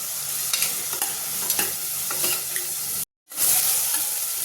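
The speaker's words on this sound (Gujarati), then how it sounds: "તો હવે આપણે ટામેટા લઈ લઈશું ટામેટાને પણ બરોબર સાતળી લેવાના છે" Tomatoes sautéed in hot oil for hotel-style sambar give a steady, close sizzle with repeated stirring scrapes and clicks, a brief full dropout just past the three-second mark, then the frying resumes.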